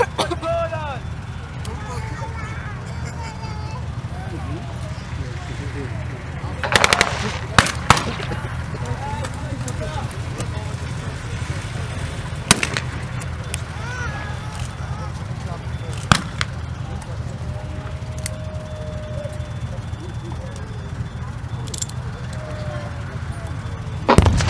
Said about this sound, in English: Now the German mortars have just been fired.